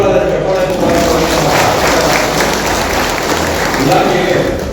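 Loud applause from a crowd at a kit distribution event for construction workers in Hosakote, a dense, sustained wash of clapping with a murmur of voices mixed in, steady throughout.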